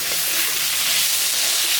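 Steady, loud sizzling and hissing of fried onion, garlic and chilli in a frying pan, continuous frying noise with no pauses and no talking.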